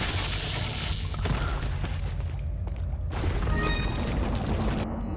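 A Resident Evil 4 explosion lands as a heavy low boom and rumble within dense game noise, followed by further crashing thuds and debris-like clatter, loud and continuous throughout.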